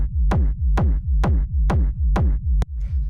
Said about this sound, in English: The first sound here is the kick,